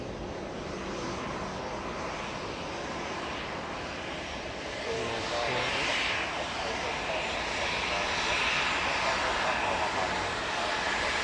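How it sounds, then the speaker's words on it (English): Broad roaring rush of a CityJet jet aircraft's engines at Manchester Airport, a loud steady wash that swells slightly louder partway through, heard from a moderate distance outdoors. "That City Jet was just pulled up on standing over there."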